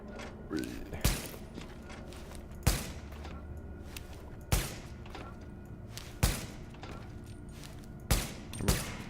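Gunfire in the video game Tom Clancy's The Division comes as sharp, booming shots spaced a second or two apart, loud and close over a low game background.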